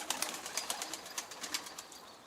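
A tumbler-type play pigeon with eagle-wing feathering moves around a poultry coop, giving a series of soft, faint, rapid taps and flutters at a steady pace, with no voices.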